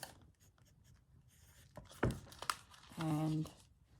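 A pen writes by hand on a junk journal page with faint scratchy strokes, a couple of sharper paper knocks, and a brief hum-like tone near the end.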